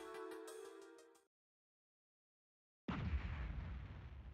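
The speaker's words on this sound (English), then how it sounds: "The sound of an explosion came from the direction of the village entrance." A sudden, loud explosion from the video game Suikogaiden Vol. 2 bursts out after a stretch of silence that follows music, then rumbles on as a dense roar.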